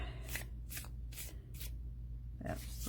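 Oracle cards being hand-shuffled, quiet and close, in four or five quick riffling bursts separated by short pauses, with no talking.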